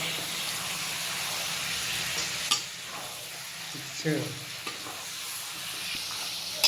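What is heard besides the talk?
mutton sizzling while frying in a wok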